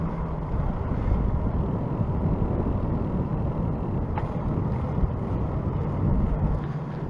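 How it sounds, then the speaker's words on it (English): Steady wind rumbles and buffets against the microphone, a constant low roar with no voices. "it's windy and cold"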